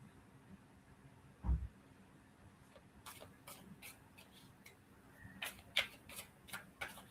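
Tarot cards being shuffled during a reading, with soft riffling and crisp card slaps in quick irregular bursts, close but quiet, after one duller knock near the start.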